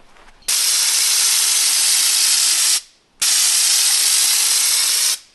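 Spray gun applying Raptor liner coating to a campervan: two loud, steady hissing bursts, the first about two seconds long and the second slightly longer, separated by a brief pause, with no voices.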